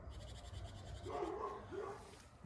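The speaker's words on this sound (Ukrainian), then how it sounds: "А це мій охоронець, який постійно в кадрі гавкає." A dog, kept as a yard guard, barks a few times from close by in an autumn backyard, with short sharp yaps around the middle of the moment and no talking over them.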